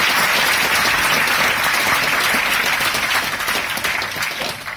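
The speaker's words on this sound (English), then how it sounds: "So can you do the round of applause for yourselves," A conference audience at a Raspberry Pi birthday event gives a loud, sustained round of applause, dense clapping filling the room before tapering slightly at the end.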